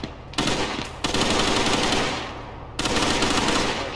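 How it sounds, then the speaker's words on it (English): Rapid machine-gun fire from a video game comes in long, loud, dense bursts with one short pause, then a fresh burst near the end. "They're shooting."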